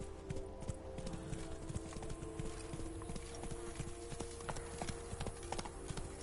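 Horse hooves clip-clop steadily at a brisk walk in The Witcher 3, a regular, crisp clatter on hard ground with a faint ambient bed beneath it.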